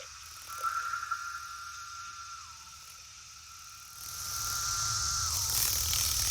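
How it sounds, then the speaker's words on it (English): A chorus of periodical 17-year cicadas in a North Georgia forest drones as a steady distant whine, with two long phrases that each fall away at the end over a fainter high hiss. "After an absence of 17 years, the forest is now overrun by cicadas."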